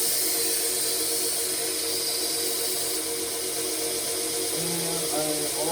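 A belt grinder sharpening a knife under light pressure runs with a steady, dense, even whir that holds without a break from start to finish.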